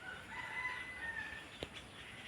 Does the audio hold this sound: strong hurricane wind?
no